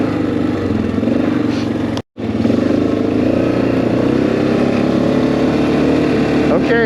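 A motorcycle called Red, ridden on trails, gives a loud, steady engine drone close by that is cut off for a moment near the start, with a voice under the noise.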